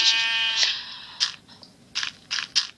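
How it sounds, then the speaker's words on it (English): Sheep from the Minecraft Pocket Edition video game bleat several times, one long wavering bleat followed by a few short clipped ones, with no talk over them. "I'm going to pickaxe this brown sheep"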